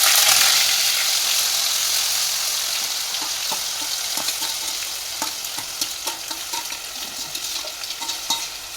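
Onions fry in oil with curry leaves for a corn curry, a bright hissing sizzle that slowly settles while a spatula ticks and scrapes irregularly against the pan.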